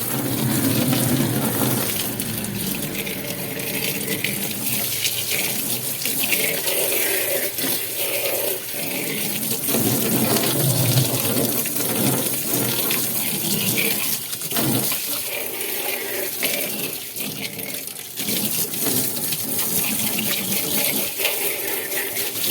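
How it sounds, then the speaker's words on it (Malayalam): Water runs steadily from a hose while a fish tank is being cleaned, a continuous splashing gush that shifts slightly in intensity over about twenty seconds. "ഇത് ക്ലീൻ ചെയ്യാൻ വേണ്ടി ഒരു ഓസ് എടുത്തിരിക്കുന്നത്"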